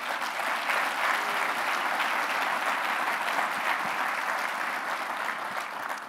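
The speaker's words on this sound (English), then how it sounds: "First, a round of applause for all of our finalists." A large crowd applauds the award finalists at a 2024 enterprise awards ceremony, a dense, steady wash of many hands clapping at once, sustained and even for several seconds without any talking.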